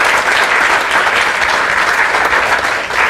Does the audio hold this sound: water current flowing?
no